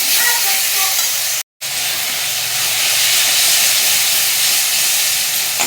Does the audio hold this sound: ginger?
yes